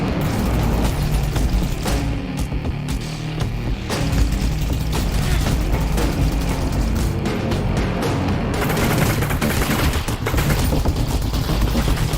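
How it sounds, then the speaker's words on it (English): Enemy gunfire and mechanical clatter in the VR game Half-Life: Alyx, with loud repeated shots and rattling impacts filling a long, continuously busy stretch of combat noise. "Oh, that guy's shooting at me."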